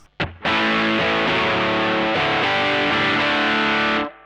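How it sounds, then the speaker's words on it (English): An electric guitar runs through the heavy drive setting of a Trex Dual Drive pedal: a quick pick noise, then a loud, thick distorted chord passage held for several seconds before cutting off, with no voices. "And I can switch to my heavy drive should I want it."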